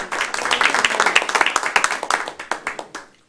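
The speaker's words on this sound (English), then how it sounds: "I'll take the applause" Applause and clapping from the audience at a town select board meeting after a vote, a dense round of many hands that thins into scattered separate claps before fading.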